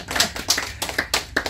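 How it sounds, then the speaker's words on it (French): An audience at a storytelling performance of an Ekang tale claps in response: a short series of sharp, evenly spaced claps, about six in a second and a half, fairly close and distinct. "Applaudissez pour vous-même."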